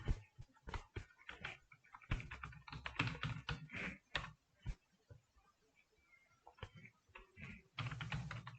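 Typing on a computer keyboard, rapid irregular bursts of key clicks with short pauses between words, close and fairly quiet, with no speech.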